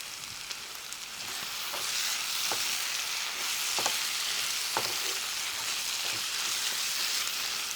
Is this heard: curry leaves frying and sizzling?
yes